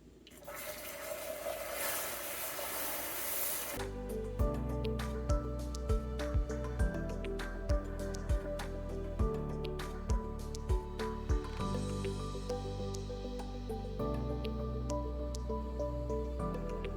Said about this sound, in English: So now we are going to very slowly and very carefully put the warm cream into the caramel, stirring very carefully.